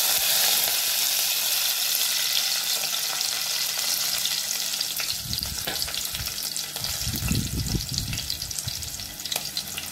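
Curry leaves and green chilies fry in hot oil with a steady loud sizzle and a dense crackle throughout, while lower stirring thumps and scrapes come in during the second half.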